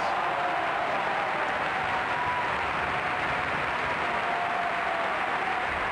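An audience applauds a choir after a dramatic song, steady dense clapping that fills the whole stretch evenly without a break.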